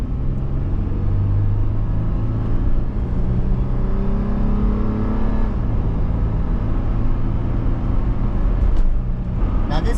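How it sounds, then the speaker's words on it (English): Road noise from Rocky Mountain AT tires on a freeway at about 70 mph, a constant low rumbling drone inside the vehicle that stays loud and even throughout, with no talk. "get some audio with these tires doing about 70 miles an hour"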